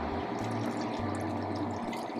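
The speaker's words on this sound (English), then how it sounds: "So we just cover this now with water?" Water poured steadily into a pot to cover meat while cooking pigs in the blanket, a continuous soft gushing splash close by with no talking.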